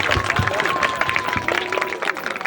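An audience claps at a school annual day function, steady dense applause mixed with crowd murmur and a sustained tone running beneath it.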